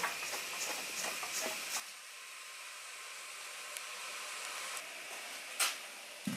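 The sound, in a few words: water boiling in a covered earth stove pot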